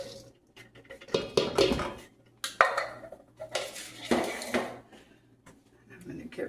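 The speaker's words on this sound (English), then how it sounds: "now I'm going to dump in my pecans" Pecans tumble into a bowl for snowball Christmas cookies, a few short clattering bursts of nuts hitting the bowl, separated by quiet gaps, close and moderately loud.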